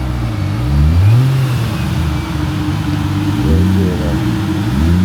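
A Toyota Supra at a street-car meet rumbles and revs nearby, its engine note rising and falling in a few swelling pulls over a busy outdoor background.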